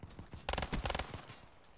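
Pistol shots in a video game, a quick cluster of several sharp cracks in close succession, fairly faint overall and trailing off into quieter pops.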